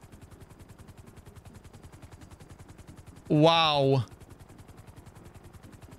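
A GTA 5 helicopter gives a steady, rapid rotor chop that runs evenly throughout at moderate loudness. Partway through, a short spoken exclamation rises briefly over it.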